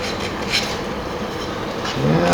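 Rasping file smoothing and rounding the inside of a slot near the nut of a Japanese sanshin, a soft scratchy scraping heard close up, with a brief low rub at the end.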